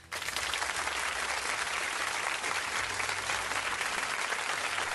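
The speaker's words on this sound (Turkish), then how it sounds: "bu alkışta emek verenlere gelsin." An audience at a language festival in Ermenek, Karaman, Turkey, breaks into dense, sustained applause that starts abruptly and holds at an even, steady intensity, with many hands clapping together.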